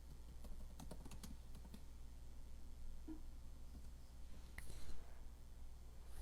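Rapid clicking of keys on a computer keyboard, with clustered bursts of keystrokes early on, sparser taps later and a brief louder clatter near the end, close and fairly quiet over a low steady hum.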